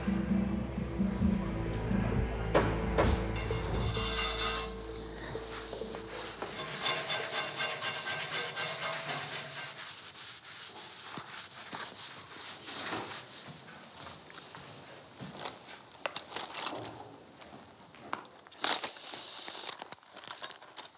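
A scalpel scrapes and rubs old wood during furniture restoration, producing dry rasping strokes that are denser early on and then come as scattered scratches and clicks, close and fairly quiet with no speech.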